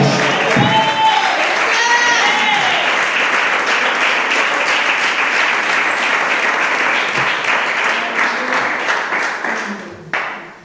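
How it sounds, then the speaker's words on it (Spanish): A church congregation bursts into dense, loud applause with a few whoops and cheers at the start, the clapping sustained before tapering off at the end. "Dale ese fuerte aplauso para Dios."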